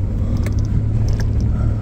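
A Toyota Tundra climbs a steep rocky trail with a steady, loud low engine rumble, plus faint scattered knocks and scrapes from the rocks and no talking.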